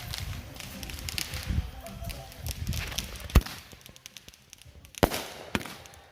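Consumer fireworks cake shots pop and crackle outdoors at a distance, with a couple of sharper bangs standing out amid background noise.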